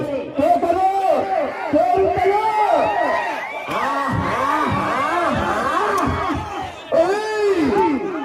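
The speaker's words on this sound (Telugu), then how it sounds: "ఒక్కసారి జనాలంతా కేకలు ఎత్తే" Spectators at a village bull-pulling race, where a pair of bulls drags a heavy stone, raise a loud, sustained roar of shouting and cheering with whoops, with voices layered densely over continuous crowd babble.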